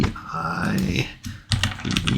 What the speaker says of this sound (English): We're going to type in the same peptide sequence.